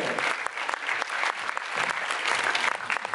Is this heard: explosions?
no